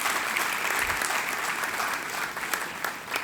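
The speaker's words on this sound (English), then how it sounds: "A round of applause" Audience applause at a semiconductor talk in India, a dense steady patter of many hands clapping throughout, thinning slightly toward the end.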